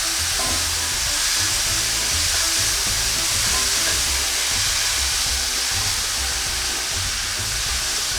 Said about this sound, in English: now fry all this together nice and thoroughly